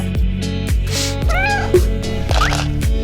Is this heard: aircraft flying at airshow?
no